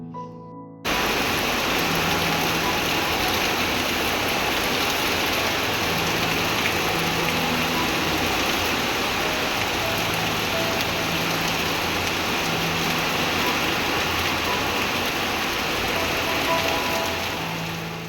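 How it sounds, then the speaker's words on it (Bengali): Heavy rain pours down in a steady, loud roar that holds unbroken for a long stretch after a brief quiet opening, with no voices. "তো শুধু তোমরা আওয়াজটা শোনো তাহলেই বুঝতে পারবে যে কি ভীষণ পরিমাণে বৃষ্টিটা"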